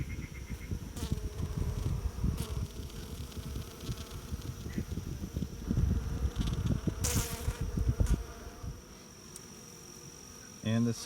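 Honeybees buzz in a dense, steady swarm close by while Layens and Langstroth hives are opened for a summer inspection, the hum thinning briefly near the end before swelling again.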